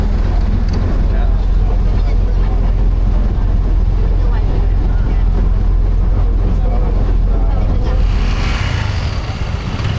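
A Bangkok boat fitted with a truck engine roars loudly and steadily up close, with wind buffeting the microphone and voices faintly mixed in beneath the constant drone.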